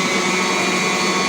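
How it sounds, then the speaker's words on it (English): An electric mixer runs steadily while flour is sieved for cupcake batter, a loud constant whirring drone with no pauses and no talking. "The thing about using a mixer is that I can continue mixing as I sieve my stuff."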